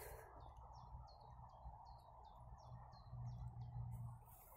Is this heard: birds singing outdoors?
yes